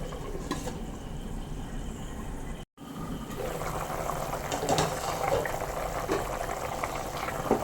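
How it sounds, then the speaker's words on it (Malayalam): A pot of jackfruit seed curry simmers over a medium flame, a continuous soft bubbling and gurgling close by, broken by a brief cut partway through. "നല്ലപോലെ തിളച്ചിട്ടുണ്ട്."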